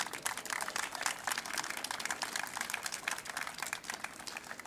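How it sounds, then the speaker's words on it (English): Steady, dense applause from the audience at a Workers Memorial Day ceremony, a continuous wash of many hands clapping at even loudness for several seconds with no voices over it. "Yes, that deserves some applause."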